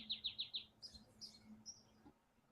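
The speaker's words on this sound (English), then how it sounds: "birds are chirping" Quick run of four high chirps, then a few scattered higher tweets, faint over a low steady hum, like birds calling from some distance outdoors.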